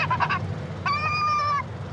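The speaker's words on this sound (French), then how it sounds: "J'ai le cri de détresse du goéland." A recorded gull distress call plays over a loudspeaker at Roissy airport to drive birds away: a quick run of short yelps, then one long, drawn-out wailing cry, loud and without talk.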